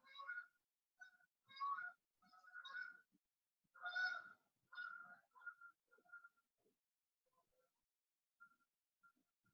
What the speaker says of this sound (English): I think 100 Canadian geese just flew past the studio